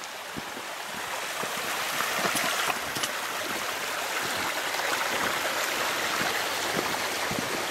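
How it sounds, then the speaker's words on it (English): Creek water flowing steadily at close range in wooded country, a continuous broadband rush and babble with no talk over it. "Oh, this creek's flowing, eh?"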